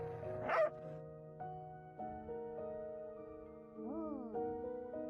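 Puppies in the video game Reverse 1999 give a string of short yips and whimpering barks, some sliding up and down in pitch, over a quiet musical background.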